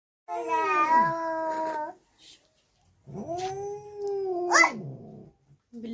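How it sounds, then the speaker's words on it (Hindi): Two cats fighting, a tomcat and a female, trade loud drawn-out caterwauls and yowls, one long wail, a pause, then another rising howl ending in a sharp screech, close by with no talk. "बिल्ला बिल्ली की लड़ाई"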